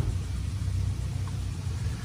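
A Bahama 41 center console's engines rumble at low throttle while docking, a steady mid-pitched drone holding close and even throughout with no talk.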